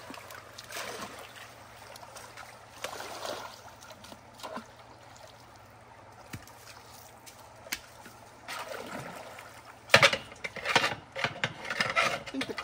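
Water trickling and pouring through a culvert in the Northern Territory, a faint steady flow with sporadic splashes and louder gushes toward the end, heard up close outdoors.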